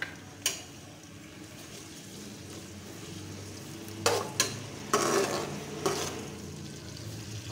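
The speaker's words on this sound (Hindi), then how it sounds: "अब हम इसमें प्याज डालेंगे और प्याज को हल्का ब्राउन कर लेंगे।" Onions hit hot oil in a pot while cooking matar pulao: a low steady sizzle runs throughout, broken by several sharp scraping stirs and clinks of a utensil against the pot in the second half.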